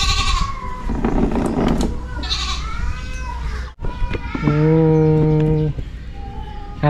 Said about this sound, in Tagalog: What does the goat say? Meh.